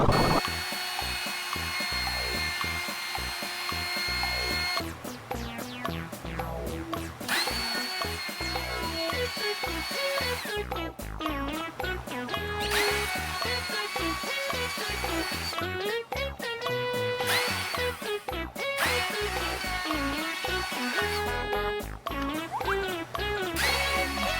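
Loud buzzing cuts of a wood router come in repeated bursts of a few seconds, over steady background music.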